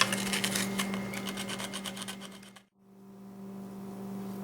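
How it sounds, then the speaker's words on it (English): A wing bone turkey call piece is sanded by hand with rapid rasping strokes, close and rhythmic, stopping partway through and leaving a quiet background hum. "The key with whenever you're sanding is to go little at a time because you don't want to take off too much."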